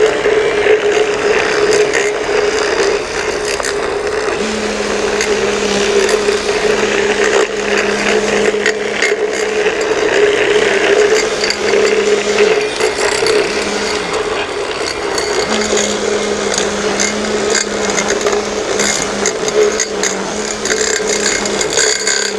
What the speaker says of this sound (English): we're just going to cut that new edge around the tree